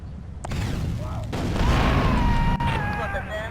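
Rockets explode in GTA Vice City, loud booming blasts and crackling debris layered with rumbling noise over a few seconds, alongside game sound effects.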